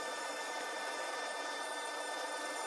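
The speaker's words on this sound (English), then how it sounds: "The point on this burr helps me get in a little bit to where I need to." Power carving burr grinding a wooden walking stick, a faint steady abrasive whir with no breaks or change in level.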